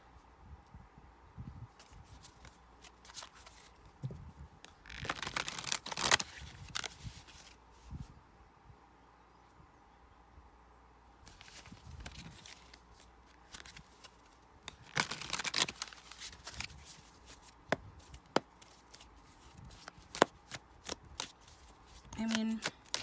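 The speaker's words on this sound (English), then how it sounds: "This is a little tougher to shuffle, guys." A deck of cards is shuffled near the microphone in two loud riffling bursts, with scattered taps and card handling between them and quiet stretches of room tone.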